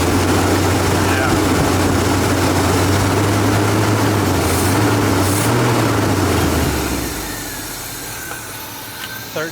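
Old Chevy Squarebody truck engine, revived after sitting 23 years, idling with a steady low rumble that swells slightly as the revs lift, then drops off sharply near the end, leaving quieter ambient sound.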